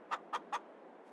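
Chickens in the farming game Farming Simulator 22 give three quick, evenly spaced clucks, short and clear against a quiet background.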